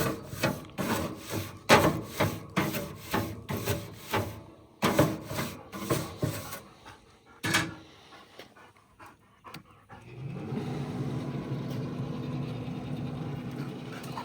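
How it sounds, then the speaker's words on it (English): A brush scrubs the grate of an inexpensive pellet grill in rhythmic, close strokes, then the scraping stops and a steady low hum takes over. "I'm going to get the grate brushed off a little bit here and get it started."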